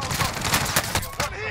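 A short, rapid burst of video game gunfire, a string of sharp cracks fired in quick succession, close and loud, with faint voice chatter under it.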